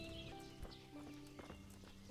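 Horse hooves clop in the medieval video game Kingdom Come: Deliverance, a faint, rhythmic series of hoof strikes mixed under game ambience and tonal background music.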